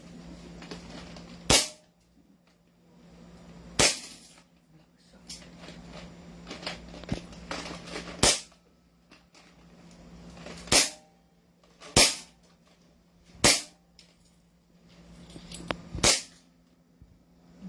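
An SRC airsoft pistol fires seven sharp snapping shots at irregular intervals of one to three seconds, close and loud over a low steady background hum.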